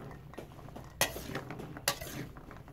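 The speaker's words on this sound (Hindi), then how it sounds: "इन सब को अब हम अच्छी तरह मिक्स कर लेंगे।" A spoon stirs and tosses chopped salad ingredients in a bowl for a weight-loss breakfast salad, producing soft scraping and light clinks with two sharper knocks against the bowl, close by.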